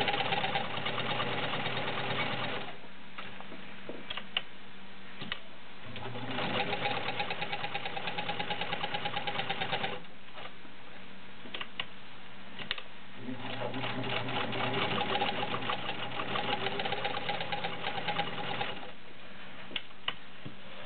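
A Kenmore 52 sewing machine stitches through a leather sample in several bursts of rapid mechanical chattering, separated by short quieter pauses, heard close up.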